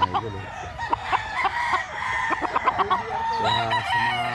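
Roosters and hens at a farm keeping early bird stud fowl crow and cluck loudly in overlapping bursts, several birds calling close together with a busy barnyard background.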